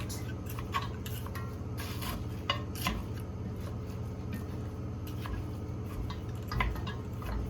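Frozen onion browning in a pan as it is broken apart, with a soft sizzle under repeated scraping and clinking of a utensil against the pan, close and with no talking.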